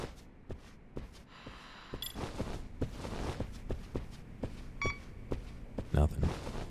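Telephone keypad tones ring out during a phone call in the video game Lost Judgment, a few short beeps standing out over steady game background noise and footstep-like taps.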